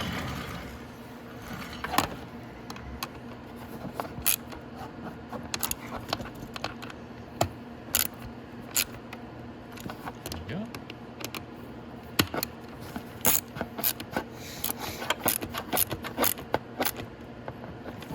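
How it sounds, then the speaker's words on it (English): Metallic clicks and ratcheting taps from a 10mm socket wrench tightening the last ignition bolt on a Venom X18 50cc automatic motorcycle, sharp intermittent ticks scattered across a quiet workshop background. "we'll just put the last one in right here. And we just need our 10mm socket"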